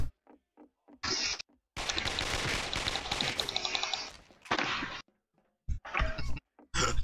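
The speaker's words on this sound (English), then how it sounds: "Gunfire." Bursts of rapid SMG gunfire in an Action Source game, a long sustained volley in the middle with shorter clipped bursts before and after, separated by silence.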